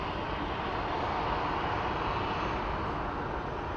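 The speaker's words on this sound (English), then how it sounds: "the world's ugliest plane, as I call it, the short, is coming in." A Shorts aircraft on approach at Phoenix Sky Harbor airport, a steady broadband engine roar that holds evenly throughout, loud and unbroken.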